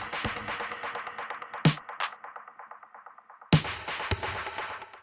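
Claps sent through an EchoBoy dub delay stand out as sharp hits over a busy rhythmic bed, each trailing off in a string of repeating echoes.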